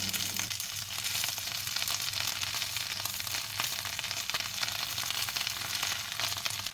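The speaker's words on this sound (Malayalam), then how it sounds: "ഇനി മുരിങ്ങയില ചെറുതായിട്ടൊന്ന് വഴറ്റിയെടുക്കണം." Moringa leaves sautéing with onions in a pan, a dense continuous sizzle heard close and loud, with faint stirring scrapes and no voices.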